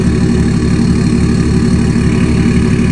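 BMW X5 diesel with its emissions equipment deleted idling steadily, a loud, deep, even rumble with constant low throb and no revving, close by and without any talking.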